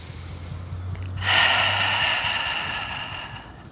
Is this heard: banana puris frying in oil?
no